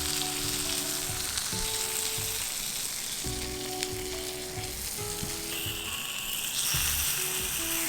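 Tandoori prawns sizzling in a frying pan, a steady close crackle and hiss with occasional scraping and clinking of a utensil, and no voices.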